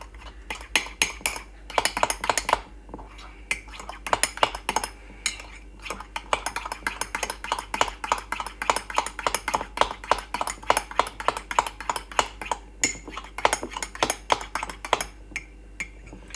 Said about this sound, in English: Might have to use a fork though to finish beating it together